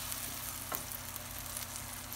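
Pancake and egg sizzle steadily in a 12-inch ceramic non-stick stainless steel skillet, a continuous close frying hiss with a brief soft scrape near the middle as the cake is flipped.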